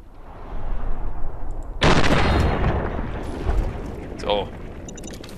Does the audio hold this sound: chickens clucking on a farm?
no